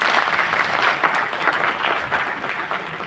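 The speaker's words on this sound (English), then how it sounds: "a huge round of applause for Sir" A conference audience gives a steady round of applause for the chief guest, many hands clapping together in a dense, sustained ovation that tapers slightly toward the end.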